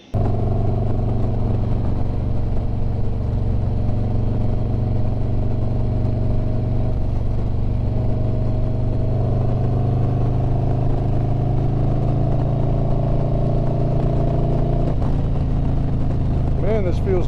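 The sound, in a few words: motorcycle ride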